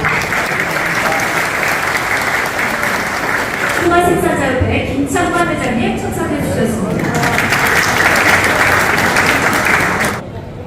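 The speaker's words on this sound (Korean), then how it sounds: "한 분 한 분 소개해드릴 때마다 큰 박수로 환영해주시기 바랍니다" Applause greeting guests being introduced one by one at a retirement ceremony for horse racing trainers, hosted by their association. Steady clapping fills the stretch, pausing briefly while a man announces a guest over a microphone, then resumes until it cuts off.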